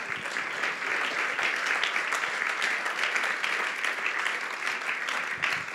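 A church congregation applauds loudly at a pastor's call, a sustained wash of many hands clapping evenly throughout, dense and unbroken at a moderate distance.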